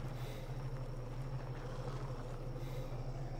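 A video game truck engine idles in neutral, a steady low hum running unbroken and fairly faint throughout, with no voices.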